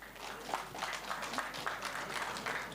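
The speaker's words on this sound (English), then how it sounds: "A big round of applause, boys and girls, for your families." A school audience at a Grade 7 farewell luncheon in Lusaka applauds families, a steady dense wash of clapping held throughout at moderate level without talk.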